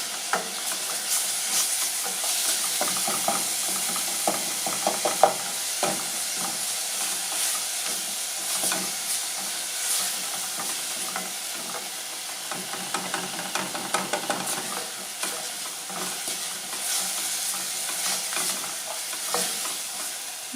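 Beef cubes fry with spices in a pan, making a continuous bright sizzle and hiss with frequent scraping stirs, close and steady throughout.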